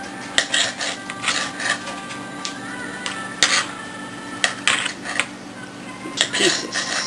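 A knife cuts food into strips and then small pieces in a home kitchen, giving irregular scraping and tapping strokes against a board with a low background hum, close by.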